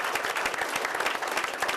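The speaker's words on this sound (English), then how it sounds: "I'd like to have a round of applause for all the parents that brought their kids down here today" An audience applauds at an Arizona press conference. Steady, dense clapping from many hands continues evenly for the whole short stretch, with no talking over it.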